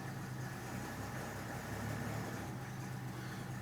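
A 1950 Pontiac Streamliner engine idles steadily while warming up, a continuous low rumble with even mechanical hum that stays at a constant moderate level throughout, with no voices.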